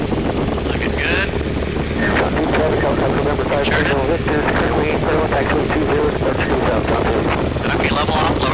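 Robinson R22 training helicopter in flight, its rotor and engine giving a loud, steady, rapid thudding drone throughout, with an instructor's voice faintly on the intercom.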